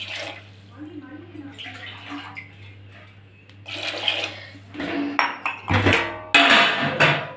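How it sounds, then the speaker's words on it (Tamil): Water poured from two tumblers into a cooking pot holding salt and turmeric for a quick idli sambar, splashing in several short bursts in the second half after a quieter stretch, with a voice speaking over it. "இதில் நான் ரெண்டு டம்ளர் தண்ணி ஊற்றுறேன்."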